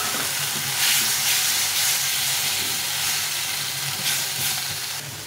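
Spice paste with turmeric cooking in hot oil, a steady close hiss and sizzle filling the whole stretch with faint stirring scrapes and no talking.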